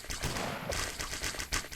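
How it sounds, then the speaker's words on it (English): Hand cannons fire in the video game Colony Survival, a dense fusillade of overlapping gunshot bursts arriving in quick succession over a constant rumbling backdrop, fairly loud and continuous. "I hear quite a few of the hand cannons go off."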